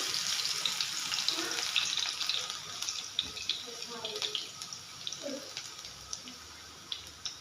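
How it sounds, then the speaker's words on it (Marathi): Crushed garlic sizzles in hot oil while the masala for poha chivda is being made. The crackle is quiet and hissing, with small irregular pops, heard close up. "सर्वात अगोदर ठेचलेला लसूण टाकून घेऊ।"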